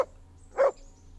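A dog in the video game Kingdom Come Deliverance gives a single short bark after a faint yip at the start, close and clear over a quiet background.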